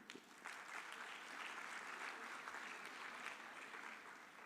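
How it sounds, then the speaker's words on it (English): Audience applause at an annual convocation ceremony, a sustained faint wash of clapping from a large indoor crowd, heard at a distance. "It requires a clapping again."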